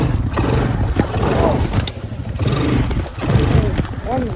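A nimble dirt bike on a trail rides over an obstacle in a wheelie, its engine loud and close with rough revving surges and rumble throughout.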